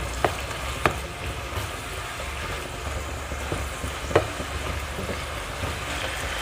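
Wai Wai instant noodles being stir-fried in a pan, a steady close sizzle broken by a few sharp scrapes and clacks of the utensil against the pan, with no talking.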